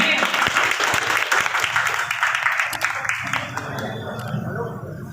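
Crowd clapping at a political rally welcoming a guest, loud and dense at first, then thinning out as a speaker's voice takes over near the end.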